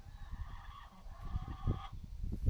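Chickens in a small farm coop cluck and call from close range over a low, shuffling background, with a few louder squawks toward the end.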